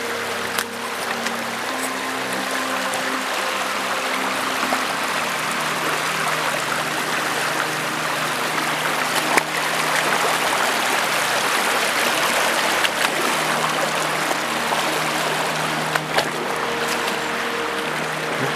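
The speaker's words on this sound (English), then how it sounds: "Now I've got to work my way back across this deep river." Steady rushing and splashing of the River Wye's deep water fills the whole stretch, loud and close, with occasional sloshes as someone wades across it.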